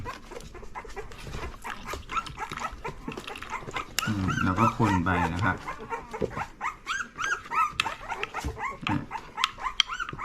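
Young puppies, about 19 days old, whimper and yip in a series of short, high cries, close by, mixed with someone talking and faint handling noises during feeding.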